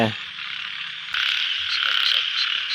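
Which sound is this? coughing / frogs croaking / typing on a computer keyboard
frogs croaking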